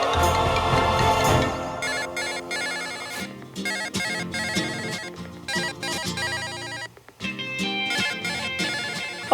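Telephone ringtone playing as a melodic electronic ring with repeating tonal phrases and short pauses, fairly close and clear, without speech.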